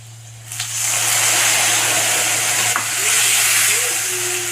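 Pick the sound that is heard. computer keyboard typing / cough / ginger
ginger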